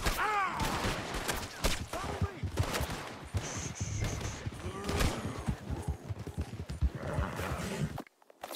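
Red Dead Redemption 2 gunfire cracks out in repeated close shots amid a chaotic horseback fight, with hoofbeats, horse noises and shouting voices mixed throughout.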